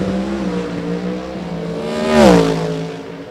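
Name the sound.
Oldsmobile race car engine on a qualifying lap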